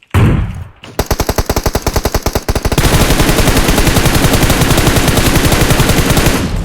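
Sustained automatic rifle fire in PUBG Mobile is sprayed at a vehicle: a loud, dense stream of rapid shots, close by, after a brief muffled rustle at the start.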